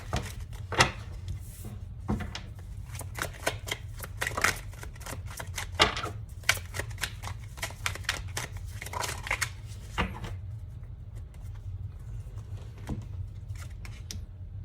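Tarot cards riffle and flick with quick, dry clicking, steady and close, a continuous shuffling texture with no voices.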